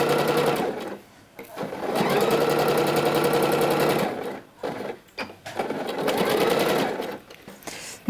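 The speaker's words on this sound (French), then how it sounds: "On va piquer à 1 cm du bord et ouvrir les coutures au fer." A sewing machine stitches a seam in dress fabric, sewn 1 cm from the edge, in three or four steady whirring runs broken by short pauses, close and fairly loud.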